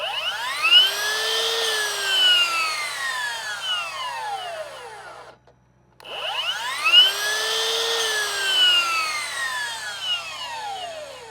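A Ryobi bladed power tool is triggered twice, each time whining up to a high, loud pitch, running briefly, then dropping and winding down, with a short silent gap between the two starts.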